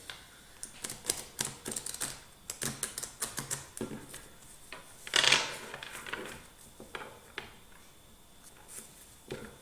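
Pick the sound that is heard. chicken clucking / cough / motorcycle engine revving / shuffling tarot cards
shuffling tarot cards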